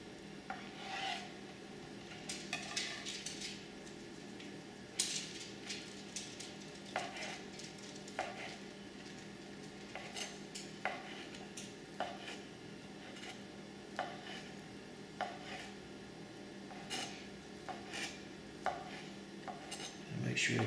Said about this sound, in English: Now we're going to need to cut this into strips.